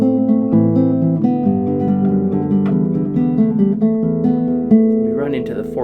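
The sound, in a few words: guitar playing verse of a song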